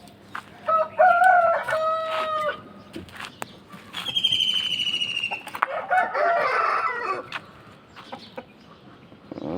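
An Aseel rooster on a rooftop crows several times in long, loud calls, with clucks and a flutter of wings between them, heard close and alone.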